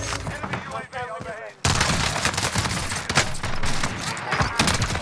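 Rapid, loud gunfire in a multiplayer shooter video game, with a blast of shotgun-like shots bursting in after a brief lull and continuing densely under excited voices.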